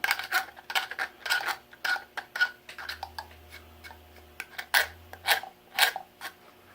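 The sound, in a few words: scraping wooden Winchester 1887 buttstock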